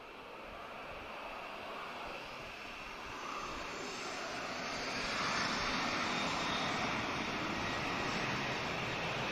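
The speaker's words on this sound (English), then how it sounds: "We have another A330 about to come as well" An Airbus A330 arrives at Lisbon Airport, its jet engines a broad, steady roar heard from a distance that slowly swells louder as the aircraft approaches, with no talking.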